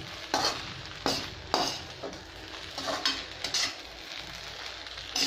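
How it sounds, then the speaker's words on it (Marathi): Sabudana khichdi sautés in a pan over high gas, a spoon scraping and clinking against the metal in irregular strokes above a continuous light sizzle. "आता ही मोठा गॅस करून आपण 2 मिनटं परतूया"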